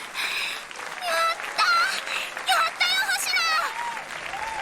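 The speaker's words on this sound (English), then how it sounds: "the cheers and applause soon sink in" Cheering and applause from a crowd in a visual novel, a steady wash of clapping with bright excited voices rising above it, loud and continuous throughout.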